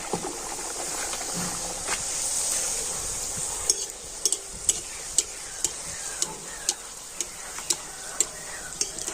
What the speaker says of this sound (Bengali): আর এখন আমি লুচিগুলো ভেজে নেব